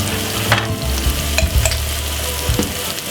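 Onion frying in a pan with garlic, a loud, steady crackling sizzle up close, punctuated by a few sharp clicks and scrapes from stirring, with no talking.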